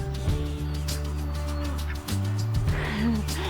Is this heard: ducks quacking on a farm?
yes